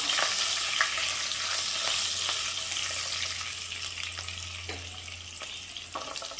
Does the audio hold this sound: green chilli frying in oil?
yes